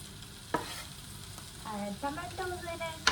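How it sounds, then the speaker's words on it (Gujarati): Tomatoes sizzle as they hit hot oil for Kathiyawadi sev tameta, a steady close crackle of frying with a few stirring clatters, while a voice speaks softly in the background. "ફાઇનલી મેં એને તેલની અંદર થોડી સાંતળી લીધી છે. હવે હું ટામેટા એડ કરી દઈશ."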